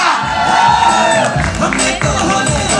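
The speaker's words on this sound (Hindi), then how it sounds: "हर्षद वारसी, जोरदार तालियां।" A large crowd cheers and shouts loudly at a Bollywood film trailer launch, with whoops and some clapping mixed into the continuous roar, and voices heard within it.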